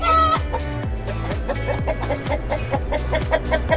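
Agitated hens and a rooster clucking close by, a rapid, steady run of loud, repeated squawking clucks with no talk.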